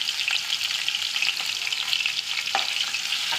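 Dried fish (shutki) frying in a pan with turmeric and salt, giving a continuous close hiss of sizzling oil with a few faint stirring clicks, with no voices.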